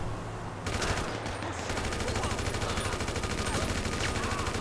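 Rapid automatic gunfire in GTA 5 rattles on in dense, continuous bursts. After a short quieter opening, it stays loud and close almost throughout.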